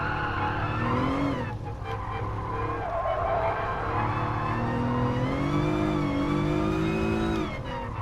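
Race car engine in Gran Turismo Sport dropping through gears under braking, the loud harmonic engine note falling and rising with revs over about eight seconds, tire noise beneath, no talk.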